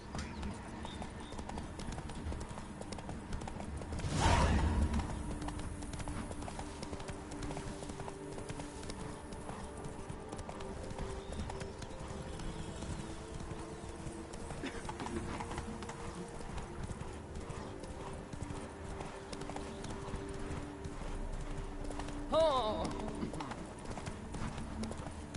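Hooves of Geralt's horse Roach in a video game, a continuous clip-clop trot under steady game ambience, with a brief louder burst near the start and a faint voice now and then.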